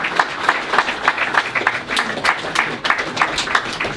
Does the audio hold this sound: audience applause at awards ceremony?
yes